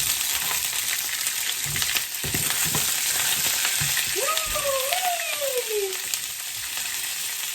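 Asparagus sizzling in a very hot pan, a steady loud frying hiss with a few clinks and stirring knocks, and a brief whistling tone partway through.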